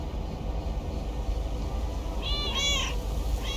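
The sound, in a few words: cat meowing in a video game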